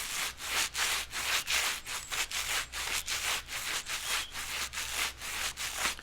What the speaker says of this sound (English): There's something so satisfying about the sound of gloves.